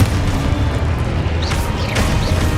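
In Hogwarts Legacy a Confringo spell lands with a dense, loud booming blast over continuous game rumble, with a couple of whooshing magical sweeps passing through.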